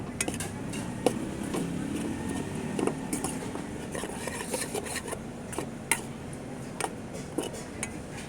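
Catfish larb mixture gets stirred in a bowl with a utensil, producing soft scraping and irregular light clinks over a steady rustle, close and continuous with no talking.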